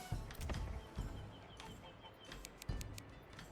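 Chickens cluck softly in short bursts over a steady background hum, with a few higher chirps mixed in, in the video game Manor Lords.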